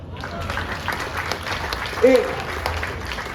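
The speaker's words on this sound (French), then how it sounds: "On l'applaudit." An audience applauds during a mathematics lecture at a festival. The clapping is a steady, broad rattle the whole time, with voices and a brief tonal call rising over it midway.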